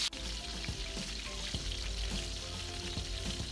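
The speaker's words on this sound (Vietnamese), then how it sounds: "Bây giờ tới màn chiên đậu bắp." Okra frying in hot oil in a pan, a steady, close sizzle that runs unbroken with small crackling pops and a few faint clinks of a utensil.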